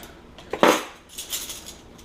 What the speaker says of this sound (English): So all we have left to do is our silverware.